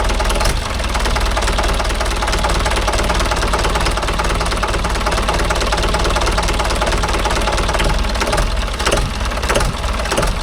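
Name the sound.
Mahindra 575 DI tractor diesel engine running at slow idle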